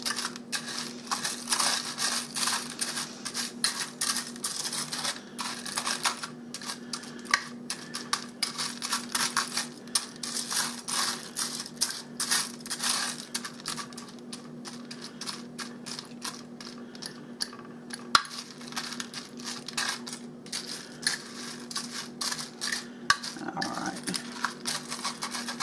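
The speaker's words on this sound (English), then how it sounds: "Now mix that up so that all your elbows are coated with butter." Cooked elbow macaroni being stirred with butter, giving a continuous run of soft, wet, crackly squishing and scraping noises over a faint steady hum.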